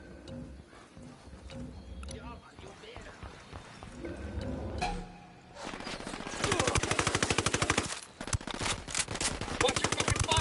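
Rapid automatic gunfire in a Ghost Recon Wildlands game session, bursts growing louder and denser in the second half with a brief pause, while voices talk over the shooting.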